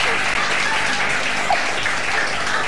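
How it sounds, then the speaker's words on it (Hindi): Studio audience applause on a Pakistani Ramadan-special morning TV show, a steady dense wash of clapping filling the whole stretch, loud and close, with no talk over it. "खवातीन सारी हो गई हैं कि तालियां बजाएंगी"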